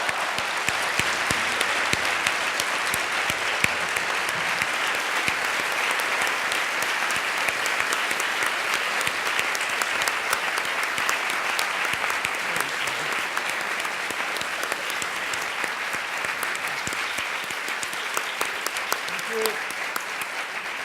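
Sustained audience applause at an interview event with Toni Morrison and Claudia Brodsky, dense steady clapping from a large crowd holding an even level for the full stretch without letting up.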